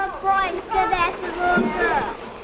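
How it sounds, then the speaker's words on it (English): Many voices chatter and overlap at once, a busy babble of children's speech filling a classroom. "It's hard to think about your own work in such a noisy room."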